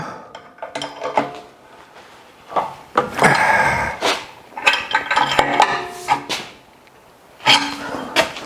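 Bolts tightened on a custom running board for a Ford F100 truck bed produce bursts of ratcheting, metallic clanks and tool rattles in uneven clusters with short pauses, close and fairly loud.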